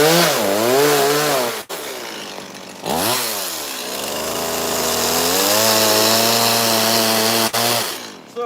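A loud chainsaw carving a wooden bear, revving and bogging down as it cuts into the wood, engine pitch swooping up and down, with two brief cutoffs before running steadily.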